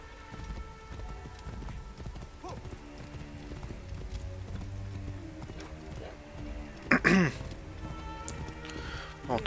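Horse hooves clip-clop in Assassin's Creed Origins, a steady, faint trotting amid ambient game sound, with a brief louder burst partway through.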